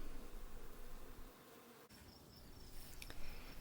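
Honey bees buzz steadily around a hive, low and fairly quiet, with a brief dip partway through and no voices.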